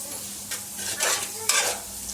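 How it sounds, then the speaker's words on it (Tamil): Chicken sukka frying in a pan with turmeric, coriander and chilli powder, giving a close, steady sizzle broken by a few scraping stirs, with no talk over it. "கொஞ்சம் ஃப்ரை ஆகட்டும்."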